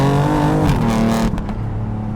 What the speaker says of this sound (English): when you put the engine in Sport Plus mode is the baffles open up and the exhaust really wakes up